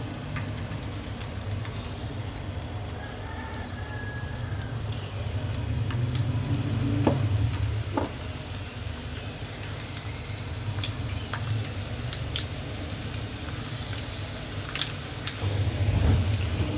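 Chopped garlic fries in 4 to 5 tablespoons of hot oil in a frying pan for a moong masoor tarka dal, giving a steady, close sizzle with a few light clinks and stirs.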